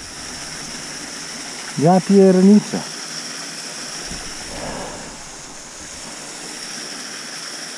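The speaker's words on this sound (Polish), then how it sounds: "Zobaczcie, jakie my mamy tu wodospady." Rushing water from roadside waterfalls over rock, a steady broad wash of sound heard from a vehicle throughout, with someone briefly speaking over it.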